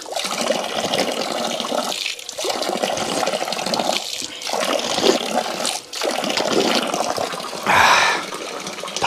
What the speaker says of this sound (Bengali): আর 10 নম্বর কিন্তু হলো এই ন্যাচারাল ওয়াটারটা